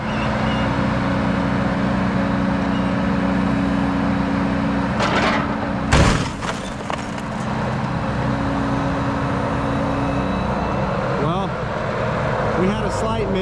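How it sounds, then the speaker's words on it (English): A heavy excavator counterweight slams onto a car in one sharp, loud crashing impact midway, followed by brief rattling and settling, over a steady background hum of machinery. "This is what we're actually going to use today to smash this car."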